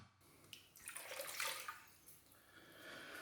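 A cup of water for bread dough runs steadily into a container for a few seconds, a soft continuous splashing pour heard close by with no talking.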